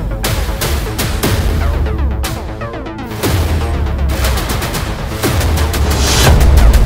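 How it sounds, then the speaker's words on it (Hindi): Dense bursts of rapid gunfire crackle in loud volleys, with heavy booms and a rumbling low end throughout. "चल रही ताबड़तोड़ गोलियां"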